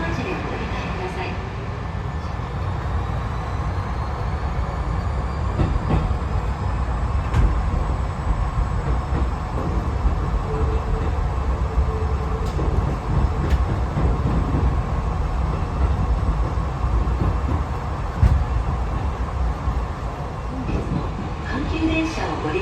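Hankyu electric train running on its rails, a steady broad rumble of wheels and motors heard from inside the car, with faint clicks of rail joints throughout and some voices faintly underneath.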